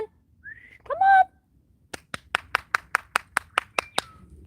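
A bird mimicking a person's whistle: a brief whistled call, then a run of about a dozen sharp, evenly spaced clicking chirps, close and clear with no talk.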